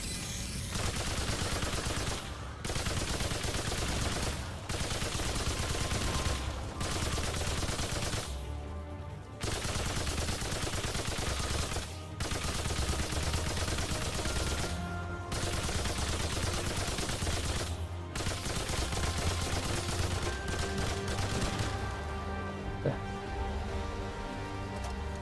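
Sustained gunfire from the player's weapon in the video game Remnant 2, dense rapid bursts broken by brief pauses, loud and continuous with no talk over it.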